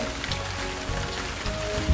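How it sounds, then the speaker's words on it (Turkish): Steady rain falls and patters on surfaces, a dense, even hiss throughout with no voices. "Çok güzel yağmur yağıyor arkadaşlar."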